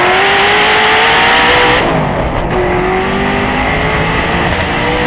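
A Hennessey Venom GT sports car with a 1200-horsepower twin-turbo V8 and a Lotus Elise-based chassis roars past up close, a loud, sustained engine drone whose pitch dips as it goes by.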